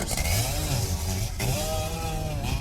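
A handheld forestry chainsaw with a 6.5 horsepower engine cuts into a giant tree, its loud, steady engine whine running nonstop and close up throughout.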